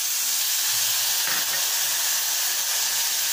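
Ingredients for semolina masala upma fry in a pan, making a steady, even sizzling hiss that runs unbroken throughout with no talking.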